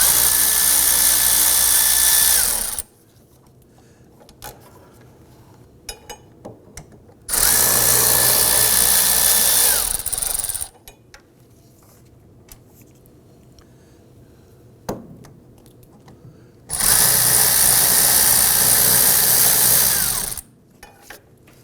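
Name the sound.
power tool removing Ford Focus rear spindle bolts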